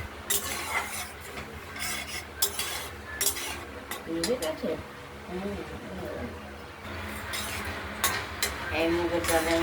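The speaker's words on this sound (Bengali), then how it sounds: "মুগ ডাল আর কালো জিরেটা আমরা ভেজে নিচ্ছি একটু হালকা করে ভাজবো।" Mung dal and black cumin fry lightly in a pan with a soft sizzle, a spoon stirring and scraping across it while a voice talks over the cooking.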